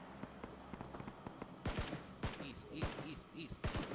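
Enemy gunfire in the video game PlayerUnknown's Battlegrounds: several sharp, loud shots ring out at irregular intervals over a low background rumble.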